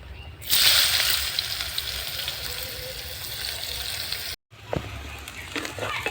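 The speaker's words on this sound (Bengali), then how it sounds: "ওই গরম তেলে আমি এই পেঁয়াজটা নিয়েছি" Steady, loud frying sizzle of onion in hot oil, broadband hiss throughout with a brief cut near the end, then sizzling resumes.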